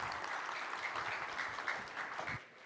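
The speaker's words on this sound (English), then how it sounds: "Applause for Ciara." A pitch competition audience applauds a startup presenter with brief, fairly faint clapping that fades out near the end.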